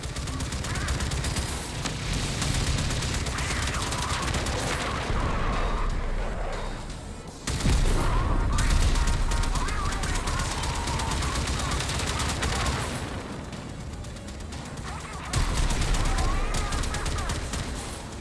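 Rapid spacecraft gunfire during a ship battle in the Warframe Railjack game, dense bursts of shooting and booming impacts running almost continuously at high loudness, with a voice briefly heard over the combat.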